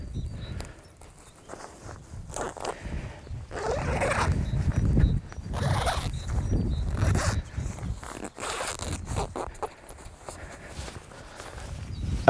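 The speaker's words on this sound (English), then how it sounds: "use the main zipper and attach it to the bottom zipper here" A zipper joins two camping sleeping bags together, running in repeated rasping pulls with fabric rustling and handling noise between them, close and without speech.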